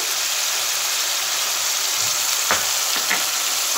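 Sesame paste and mustard paste fry in a pan for a vegetarian bitter-gourd kofta curry, giving a constant loud hiss and sizzle, with a few brief scrapes near the end and no voices.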